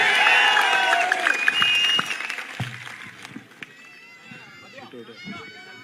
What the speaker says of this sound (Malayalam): ആ വടകരയുടെ കരുത്തുള്ള ഒരു കയ്യടിയോട് പിഷാരടിയെ നമുക്ക് ഒരിക്കൽ കൂടി വേദിയിലേക്ക് സ്വാഗതം ചെയ്യാം